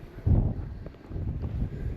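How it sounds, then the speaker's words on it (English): Low rumbling gusts of wind buffeting the microphone outdoors on a frigid winter day with fresh snow, rising sharply then settling into a steady outdoor roar, no voices. "A little windy, not bad."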